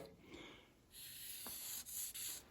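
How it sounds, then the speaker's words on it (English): A marker squeaks and rubs briefly across aluminum up close. The faint, scratchy strokes come in short bursts over a quiet background. "you make a mark on your aluminum"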